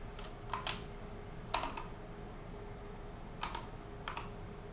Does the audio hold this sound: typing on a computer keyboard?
yes